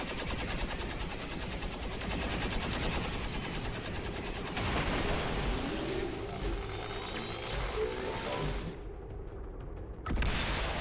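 Sustained automatic gunfire and bursts from XCOM 2: War of the Chosen combat, dense and continuous with booming impacts, dropping out briefly near the end before resuming.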